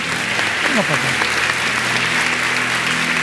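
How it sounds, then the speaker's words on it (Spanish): A church congregation bursts into loud, sustained applause during a sermon, with voices calling out over the clapping throughout. "Le damos un aplauso fuerte al Señor."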